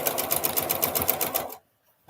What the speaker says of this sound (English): let me sew this real quick.